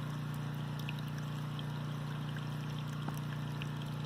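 Water running steadily from a spigot fed by a well pump with about a 25-foot lift, a continuous low rush and trickle that holds even throughout, with a faint click near the end.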